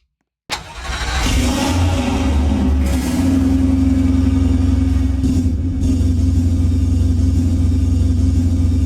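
Jaguar car engine in the video game Driving Empire: after a brief silence the starter catches and the engine fires up loudly, settling into a deep, steady rumbling idle with a couple of light blips, no talk.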